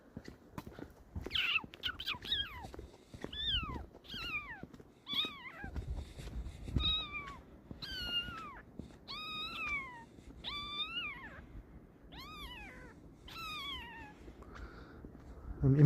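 A man imitates a kitten's meow on a city street in Toronto's Annex, giving a series of about a dozen high, plaintive mews at irregular intervals over faint traffic and street noise.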